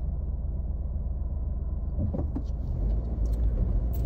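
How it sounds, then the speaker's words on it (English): Traffic rolls past on a busy roundabout, a continuous low engine and tyre rumble that swells near the end as vehicles pass close. "This roundabout is so hard to get onto this roundabout because there's always cars."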